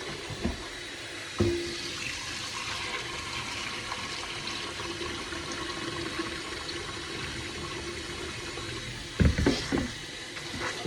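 Water runs steadily into a kitchen sink as chitterlings are rinsed under the tap, a continuous close splashing flow with a few louder clunks and splashes near the start and end.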